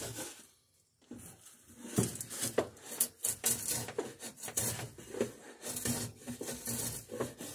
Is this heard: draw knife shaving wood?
yes